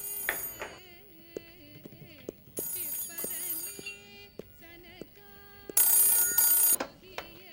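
A telephone rings in short repeated bursts inside a room, loud and close, between brief knocks and other indoor sounds, with no speech over it.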